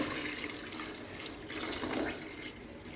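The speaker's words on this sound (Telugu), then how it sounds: "ఇప్పుడు వాటర్ వేసుకోవాలండి." Water runs steadily into a cooking pot of fried masala with coriander, making a continuous close rushing pour with no talking.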